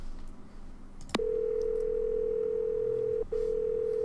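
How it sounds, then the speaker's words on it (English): A steady telephone dial tone in a Nancy Drew video game, Labyrinth of Lies, starting after a click and holding on continuously, briefly interrupted near the end, with no talk over it. "We're going to go ahead and give Melina a phone call, and then we're going to call the boys."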